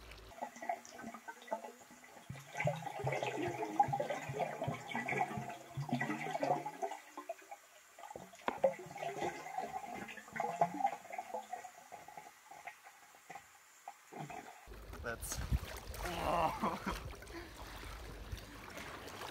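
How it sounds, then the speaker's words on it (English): Methylene blue solution poured into a pool: soft trickling and gushing water over a long stretch, ending in a louder, fuller splash. "pour the methylene blue into the pool"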